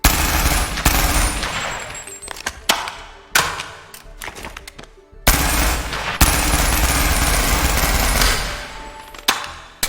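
Honey Badger rifle fitted with a suppressor firing in the VR game Bonelab, several long sustained bursts of rapid automatic fire broken by short pauses and a few single shots, loud and close.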